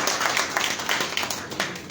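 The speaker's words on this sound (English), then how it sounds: "Let's give a hand clap of praise." Brief burst of audience hand clapping at a trade mission ceremony celebrating a Georgia–Liberia sister port agreement, a dense patter of many hands, moderately loud and steady with no talking.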